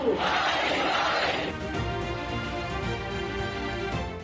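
A crowd of thousands at a Hindu religious rally chants slogans in unison, a loud, dense roar of many voices that carries on steadily throughout.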